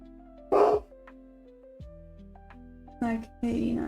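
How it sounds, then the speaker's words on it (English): A dog gives a few short barks and yips in a room, in brief bursts separated by pauses over a steady background tone. "Don't bark at them, it's okay."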